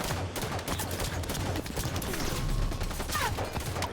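Continuous gunfire and weapon clatter from a Halo 5 multiplayer match, quick repeated shots blending with mechanical game sounds at a moderate, steady level.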